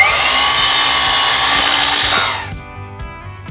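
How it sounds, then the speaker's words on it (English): A miter saw rips through lumber being cut for a frame, a loud, close, sustained whine of the blade biting wood that winds down after about two seconds into fading spin-down. "I'm gonna start by just using this miter saw"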